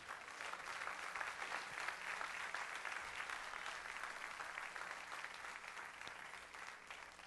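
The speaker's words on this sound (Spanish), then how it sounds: "Dale un aplauso a Jesús." Congregation at a Spanish-language church service applauds steadily, a dense even wash of many hands clapping throughout, with no voices rising above it.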